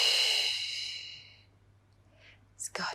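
A long, close breathy exhale during an intermediate Pilates mat workout, loud at first and fading over about a second and a half, then near-quiet with a couple of short soft rustles at the end.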